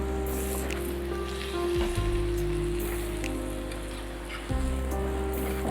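Aloo or methi paratha frying in ghee on a pan, a steady close sizzle like light rain with a low hum underneath, no speech.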